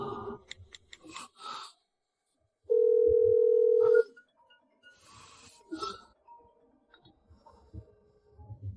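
A phone call being placed, with a single steady electronic ringing tone lasting just over a second, clear and loud, set between stretches of quiet speech and small handling noises.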